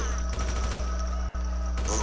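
Video game gunfire crackles in rapid bursts, with sharp shots punching through a loud, dense background of game sound and music, close and continuous for a couple of seconds.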